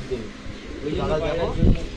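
Pigeons coo in a loft, soft low calls rising near the end beneath a voice talking over them.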